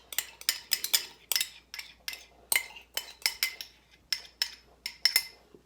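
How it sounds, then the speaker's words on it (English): A utensil scrapes and clinks against a bowl as seasoning is mixed onto cauliflower, making a string of sharp, uneven taps close by with no talking. "all I'm doing now is I'm going to mix this onto my cauliflower"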